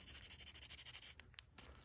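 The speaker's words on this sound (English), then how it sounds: "Just polish it up. Sand it down" Sandpaper rubs back and forth over the plastic of a Magneto Marvel Legends action figure in a steady rhythm of close, quiet strokes, then pauses briefly before a few final scrapes.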